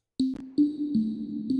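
A convolution reverb modelled on the acoustics of York Minster cathedral, applied to a few tonal synth pings that ring out with a long, smeared tail. The hits are close and clear, with no talking.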